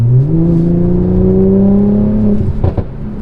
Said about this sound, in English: you would always be doing that just to get the crackles and pops